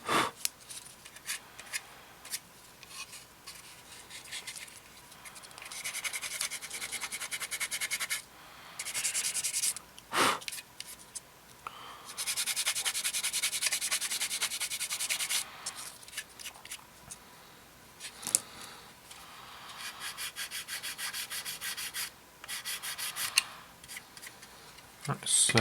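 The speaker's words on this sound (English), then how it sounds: "what you do is just work your way around and just file it as best you can" A small file rasps against a 1/72 scale plastic model kit part in close, faint bursts of scratchy strokes with short pauses between them, and someone talks quietly at times.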